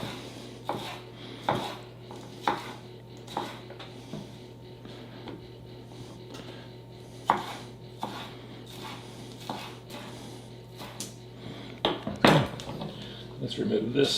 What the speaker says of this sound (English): Do the same thing with the yellow pepper. Don't have to deal with seeds this way.